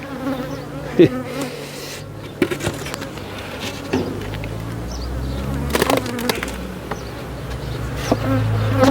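Honeybees from a swarm being moved into a nucleus hive buzz in a dense, continuous drone, with occasional louder passes close by and some handling knocks.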